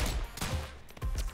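Guns firing in the Rounds video game, a few loud sharp shots in quick succession with short gaps between them, close and punchy, with no talk.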